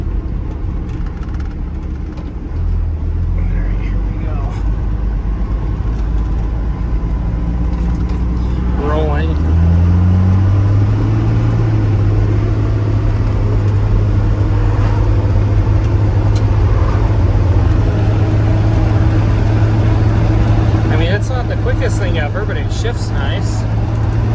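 A first-generation 12-valve Cummins diesel farm truck pulling hard at wide open throttle, a steady loud engine drone rising in pitch and holding for many seconds, with a voice talking faintly over it.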